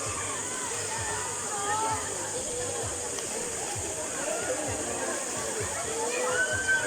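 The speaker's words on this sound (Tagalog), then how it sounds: "Yan, nag-iisa tong Paglitaw Falls na to." Paglitaw Falls in Tanay, Rizal, a steady close rush of falling water with sloshing and splashing, under someone talking.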